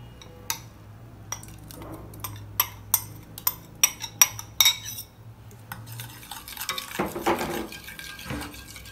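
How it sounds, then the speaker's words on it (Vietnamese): Clinks and taps of a utensil against a pot come in a quick uneven run, then a soft splash and sloshing of milk being poured into the pot with potatoes. "Các bạn cho sữa vào nồi và cho khoai tây vào."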